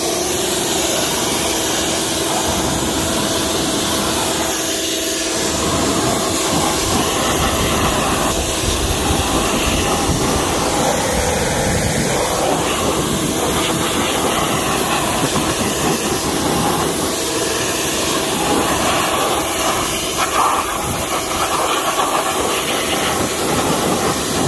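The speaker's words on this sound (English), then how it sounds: "and now pressure washer" A pressure washer sprays the wheels of a Dodge Charger Scat Pack, a loud, constant, close hiss of high-pressure water with a motor hum underneath, continuous throughout.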